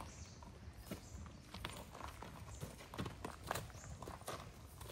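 Horse hooves clip-clop along a path at the Matheran hill station, a run of irregular clacking steps at moderate distance over faint outdoor background.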